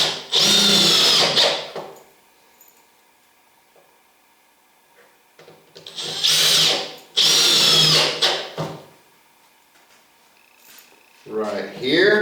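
A power drill drives screws into the wood of a reloading bench in three or four short, loud whirring bursts, each separated by quiet pauses.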